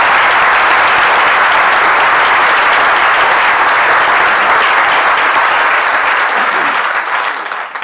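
A large audience claps loudly and continuously at the 2017 Bird Photographer of the Year awards presentation, dense sustained applause that tapers off near the end.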